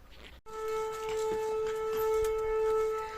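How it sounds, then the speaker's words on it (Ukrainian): A steady, distant wailing air raid siren holds one pitch, faint but continuous, after a brief rustle at the start. "У нас почалась, почалася сирена, задовбала."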